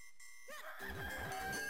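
A chicken clucks in the Zelda Minish Cap video game, a few warbling squawks rising over game music, close and moderately loud.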